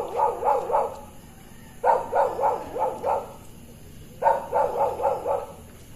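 A stray street dog barks outdoors in three separate bursts of three to five quick, rhythmic barks, moderately loud and fairly near, with quiet street ambience between bursts.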